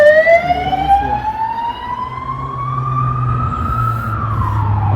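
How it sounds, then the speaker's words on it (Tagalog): A loud ambulance siren wails close by on a Sunday street near the port of Castellón, Spain, its rising and falling tone sweeping steadily over traffic rumble. "May ambulansya dito,"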